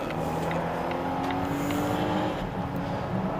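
A 2017 Volvo XC90 T6, a turbocharged and supercharged four-cylinder, cruises in comfort mode, heard from the cabin as a steady engine drone under road and tyre noise with slight pitch changes.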